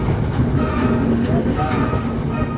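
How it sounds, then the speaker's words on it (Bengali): A train rumbles past nearby, a continuous low heavy roar with rattling wheels and metallic squeals rising over it. "কত বড় ট্রেন ভাই!"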